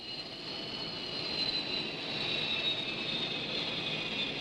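A Supermarine Scimitar jet aircraft on an aircraft carrier deck gives off a steady, whining roar with a high, sustained tone that swells slightly, heard without voices.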